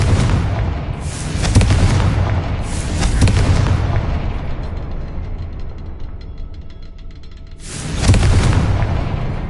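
Booming blasts of the Confringo fire spell in Hogwarts Legacy, three heavy explosions spaced a few seconds apart, each with a rumbling tail that fades before the next, loud and close, with no voices.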